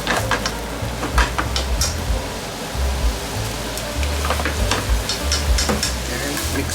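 Yakisoba with oyster, shrimp and vegetables sizzles loudly in a pan over high flame, a steady broadband crackle with scattered sharp pops and stirring clatter, no voices.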